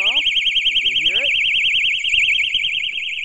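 An iSafe strap alarm shrills loudly and steadily in a warbling high tone throughout, with a person talking over it near the start and handling noises underneath.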